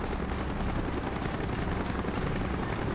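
A helicopter in the Call of Duty Black Ops video game drones steadily and loudly throughout, its rotor chop and engine roar filling the scene with no voices heard.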